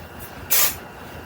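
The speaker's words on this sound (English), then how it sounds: "I'm going to do a light spray here just to set it just a little bit." A single short burst of hairspray misted over styled curls set with hot rollers, a brief close hiss lasting about a quarter second amid quiet room tone.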